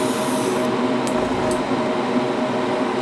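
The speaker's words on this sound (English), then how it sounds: "I'm just spraying straight air right now to kind of dry that down a little bit faster" An airbrush sprays straight air to dry paint on a diorama model, a steady close hiss running continuously without pause.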